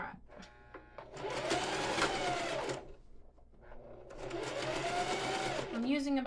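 A sewing machine stitches a fabric water bottle holder in two bursts of fast, whirring needle runs, close and moderately loud, separated by a pause, with a voice talking between and after the runs.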